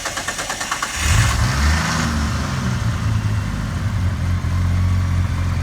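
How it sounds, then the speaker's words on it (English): A Ford Falcon FG XR6 Turbo cranks and fires up after about a second, then settles into a loud, deep, rumbling idle with some revving, heard close up with no talk over it. "Okay, Tim, you want to just maybe start it up for us? I don't think we've heard this one properly"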